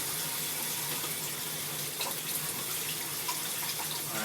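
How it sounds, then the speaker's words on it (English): Running water from a kitchen tap pours steadily while frozen food is rinsed and peeled during cooking. It makes a constant, close splashing hiss with no voices. "one reason why maybe I use running water is sort of makes it easy peeling the skin"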